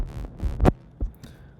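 A Serum 2 synth bass patch built from a square wave, in an experimental bass music style: a few short, punchy low notes, the loudest in the middle, then softer hits, with no talking.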